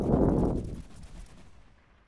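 Gunfire in the video game Fortnite: a loud, booming burst at the start that rumbles and fades away over about two seconds, with no talk over it.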